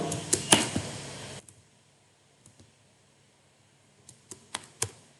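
A computer keyboard clicks as someone types into a spreadsheet: a quick burst of keystrokes, a pause, then a few separate, sharp taps close by.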